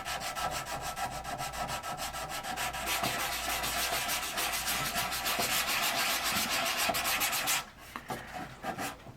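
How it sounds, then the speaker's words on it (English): Sanding with 400 grit sandpaper on a model ship: close, steady rapid back-and-forth rubbing strokes with a gritty rasping texture, stopping abruptly near the end and followed by a few faint handling sounds. "Let's just take our 400 grit here and see if we can just sort of take that down just a little bit here."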